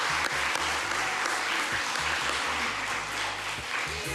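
Sustained applause from a school assembly audience honoring the last class of 2025 signees, steady and dense, with a faint deep thumping beneath and no clear talk.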